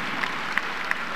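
A FAMU commencement audience at the 2018 ceremony applauds with steady clapping throughout this short moment.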